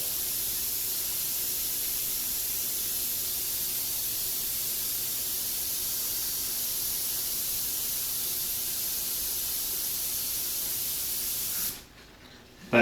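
An airbrush spraying transparent black paint: a steady, close, even hiss that runs unbroken for about twelve seconds, then cuts off abruptly.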